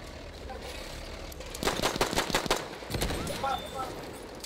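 Gunfire in the video game Battlefield 1 during a multiplayer match: bursts of rapid automatic shots in two clusters midway, moderately loud over a quiet background, with a player's voice talking at times.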